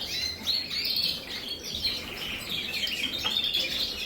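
Gloster canaries chirp and trill steadily in a block-built birdroom full of cages, several birds overlapping in a bright continuous chatter at moderate loudness with no talking.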